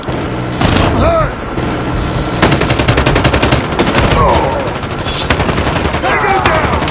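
Gunfire in the Call of Duty Mobile video game, rapid automatic bursts and heavy booming shots close and loud, with game voices and effects mixed in.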